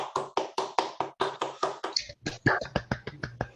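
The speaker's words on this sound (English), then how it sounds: "I'm gonna go clap" One person claps hands on a Zoom call, about twenty sharp, evenly spaced claps in a steady rhythm, close and alone.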